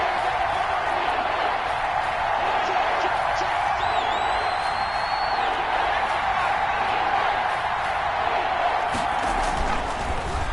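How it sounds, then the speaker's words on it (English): A huge football stadium crowd at a Seahawks–Patriots game keeps up a steady, dense roar of cheering on a third down, loud and unbroken throughout, with a faint whistle-like tone rising briefly above it. "This crowd dying for a stop."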